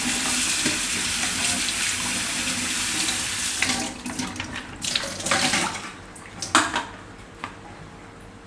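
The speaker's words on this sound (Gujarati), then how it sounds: "તો પહેલાં આપણે આ ભાજી છે એને એકવાર ધોઈ નાખીશું." Running tap water splashes over leafy greens being rinsed in a kitchen sink, steady and close for the first few seconds, then breaking into intermittent gushes and splashes as the leaves are handled.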